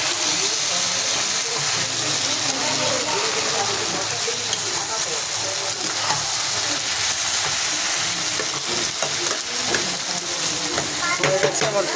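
Puti fish chachchori fries in a pan and is turned over, giving a continuous close sizzle broken by small scraping and clattering stirs.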